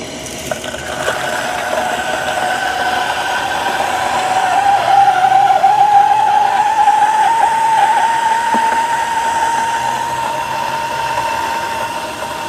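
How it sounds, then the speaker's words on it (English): Coffee grinder dosing directly into a blind shaker, a steady whirring hum that swells slightly in the middle and holds on without pause. "Can you imagine last time the grinders, how noisy they can get, right?"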